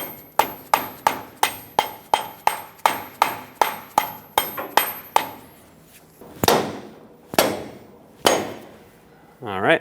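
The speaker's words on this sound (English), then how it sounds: "You can take a small rubber mallet, just help it go in all the way by tapping it." A small rubber mallet taps an O-ring into place on a 2000-2005 Ford Excursion front brake dust shield job: a quick, even series of sharp knocks, then a few slower, louder blows.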